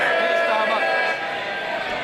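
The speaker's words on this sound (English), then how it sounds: "the sound you hear is them cheering the Prime Minister" A dense, roaring crowd of MPs cheering and jeering in the House of Commons chamber, a steady wash of many voices that eases slightly partway through.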